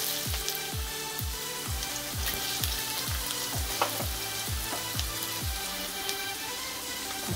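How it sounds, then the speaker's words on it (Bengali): Chopped potatoes fry in hot oil for chowmein, giving a dense, steady sizzle and crackle close by, punctuated by regular stirring knocks of a utensil against the pan. "এই তেলের মধ্যে আমি এখন দিয়ে দেব কুচিয়ে রাখা আলু"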